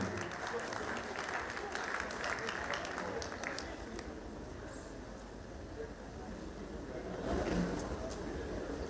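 Steady crowd applause at a priest's 50th birthday celebration, a dense continuous patter of many hands clapping in a large room, with some voices underneath.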